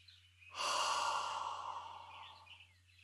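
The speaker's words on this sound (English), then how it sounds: "Take a deep breath in. Let it out." One slow, deep breath is drawn in and let out close by, a soft airy rush that swells and gradually fades over a faint steady hum.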